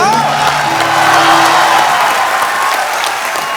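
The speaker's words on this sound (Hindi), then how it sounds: "आपकी जोरदार तालियों के बीच तशरीफ ला रहे हैं" A dense, steady wash of studio audience clapping at a comedy show fills the whole stretch, loud and continuous, with faint crowd murmur beneath.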